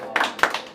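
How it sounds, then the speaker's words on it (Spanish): A few people clapping at a birthday mariachi performance, short and close, with a handful of distinct hand claps in under a second. "El aplauso maravilloso que se escuche."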